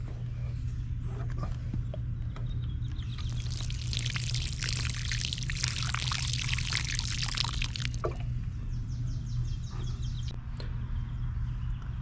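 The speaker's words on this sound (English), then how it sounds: "And we're going to fill the hole with water." Water pours into a planting hole dug for a bell pepper plant in a garden. A steady, close rush of pouring and splashing builds for about four seconds and then cuts off, with a low steady hum underneath.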